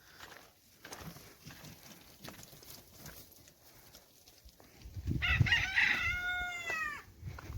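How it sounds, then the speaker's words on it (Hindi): A rooster crows once in the early morning in a Saudi Arabian village, loud and nearby, a long wavering call rising out of quiet outdoor background with faint rustles and low rumble. "ये देखें मुर्गे की बांग की आवाज सुबह सुबह सऊदी अरब के गांव में।"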